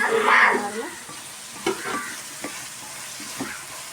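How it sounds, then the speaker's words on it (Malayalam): Ripe tomato stirred into onion, ginger, green chili and golden garlic in a hot pan, soft close sizzling with repeated scraping stirs of a spoon at an uneven pace. "അതും കൂടിയിട്ട് നല്ലോണം ഒന്ന് നമുക്ക് വയറ്റി കൊടുക്കാം"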